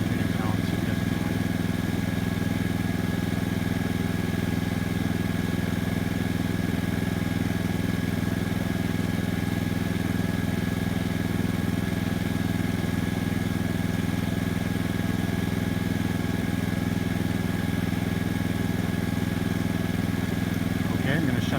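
A Honda portable inverter generator running in eco mode at reduced RPM gives a steady, even mechanical hum with a low droning tone, unchanging and continuous at close range.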